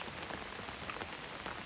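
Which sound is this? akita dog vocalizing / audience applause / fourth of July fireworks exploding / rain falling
rain falling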